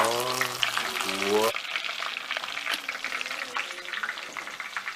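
Egg rolls fry in hot oil with a loud, steady crackling sizzle that continues throughout. A brief whistle-like tone sounds at the start.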